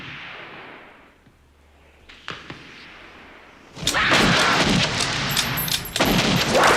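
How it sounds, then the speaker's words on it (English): A quiet, near-silent stretch in the 1990 film Tremors, with a few sharp cracks, then a burst of rapid gunfire rattling in quick volleys, sounding somewhat distant. "the gunshots in the distance"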